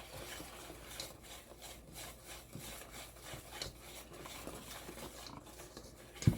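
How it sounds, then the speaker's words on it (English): A whisk stirring dry cookie ingredients in a bowl for an Andes mint cookie recipe, making soft continuous scraping and rustling strokes at close range, with no talk. "with your whisk, you are just going to make sure this is all whisked evenly around"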